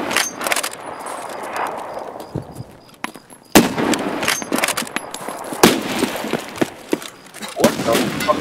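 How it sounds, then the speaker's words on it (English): Bursts of video game gunfire crackle all around, sharp shots and rapid volleys at varying distances, layered over a busy, noisy battle backdrop. "You hear like gunfire all around you"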